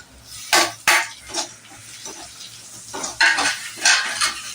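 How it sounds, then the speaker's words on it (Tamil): Anchovy dry fish being stirred with salt, chili powder and curry leaves in a pan, with scraping spoon strokes over a soft sizzle; a few sharp clacks of the spoon against the pan, close and alone. "உப்பு, மிளகாத்தூள், கருவேப்பிலை எல்லாம் மிக்ஸ் பண்ணுறோம்."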